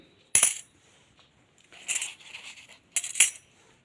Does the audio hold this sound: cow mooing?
no